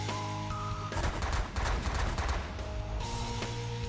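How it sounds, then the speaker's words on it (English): Naval ships in The Last Federation pour sustained fire onto a pirate base, a dense, loud barrage of rapid bursts and blasts layered over steady game music, swelling in the middle and easing toward the end. "let's focus fire on the pirate base and get that destroyed"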